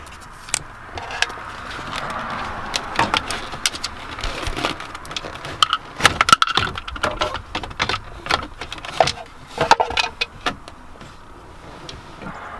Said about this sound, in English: I'm going to go ahead and clip the zip tie off of the